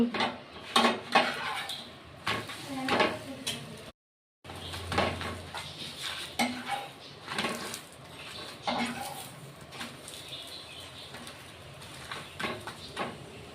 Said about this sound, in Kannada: ನೋಡಿ ಒಂದು ಬಾಣಲೆ ಇಟ್ಕೊಂಡಿದ್ದೀನಿ